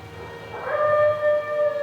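A hound howls in a long, rising, wavering cry over a low ambient bed, loud and close, holding its pitch before trailing off.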